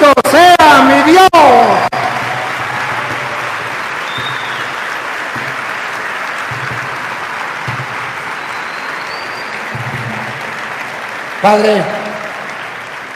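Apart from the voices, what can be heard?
audience applause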